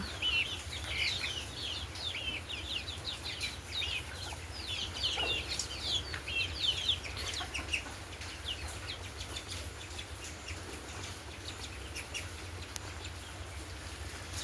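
Many rain-soaked chickens cluck and chirp in a dense, continuous chatter over a steady background hiss, with no talking.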